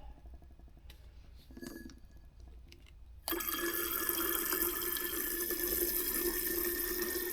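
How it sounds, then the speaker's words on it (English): Distilled water pours into a container, starting with quiet trickles and drips, then switching abruptly to a steady, close, hissing stream that runs to the end. "ASMR water going into a container"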